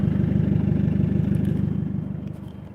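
A Ford Fiesta diesel engine idling through a dirty Milltek stainless steel exhaust, a loud, close, steady low burble with even rhythmic pulses that fade slightly toward the end.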